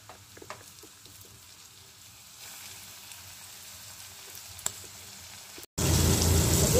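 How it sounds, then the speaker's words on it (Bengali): Chicken pieces drop into hot white oil for a Korean-style fry, starting as a faint low crackle and then bursting into a loud, steady sizzle near the end. "তেল গরম হয়ে গেছে, তো এক এক করে আমি এগুলো দিয়ে দেব।"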